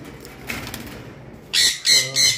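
Lovebirds in a bird shop give three loud, sharp chirping calls close by in quick succession, following a stretch of quieter, murmuring background.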